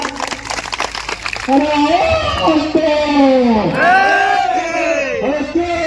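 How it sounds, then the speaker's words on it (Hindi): A crowd at a welcome event cheers and shouts in unison, loud chanted calls rising and falling near the microphone with a rough background murmur between the shouts. "एक बार जोरदार तालियों से स्वागत करेगा"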